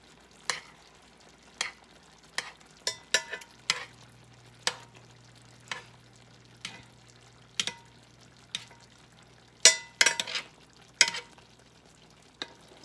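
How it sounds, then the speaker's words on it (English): Pork tenderloin being basted in a pan with a lemon cream sauce of butter, heavy cream, lemon juice, rosemary and parsley: a faint steady sizzle under a regular run of sharp spoon clinks and scrapes against the pan. "I'm just going to keep basting them with this sauce that has this rosemary and this parsley and butter and lemon juice and my heavy cream in it."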